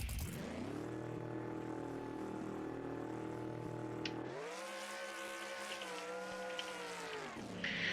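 A drag car in BeamNG.drive holding high revs against a trans brake, then launching: a loud, sustained engine drone that drops and shifts in pitch midway before climbing again, close and continuous.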